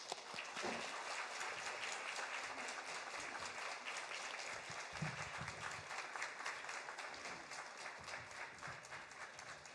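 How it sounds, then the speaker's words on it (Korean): Church congregation applauding to welcome a missionary at a Sunday afternoon service, steady clapping filling the room for the whole stretch at moderate, even volume. "우리 시간 선교사님 나오실 때 크게 박수로 환영하도록 하겠습니다."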